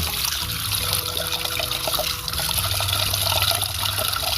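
Water pours steadily into a pot, filling it about two-thirds for homemade liquid fertilizer from shrimp heads, a continuous close splashing rush.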